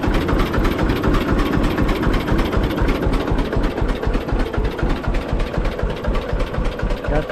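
A 1950 John Deere A tractor engine, fitted with a Model 45 loader, runs close by with a loud, steady low-pitched rhythmic chugging that continues without a break.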